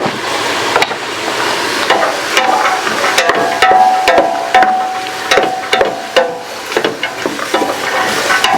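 Chopped vegetables for a creamy turkey noodle soup with mushrooms sweat in a pot with salt and pepper, giving a steady close sizzle broken by frequent scraping stirs and clacks of a spoon against the pot.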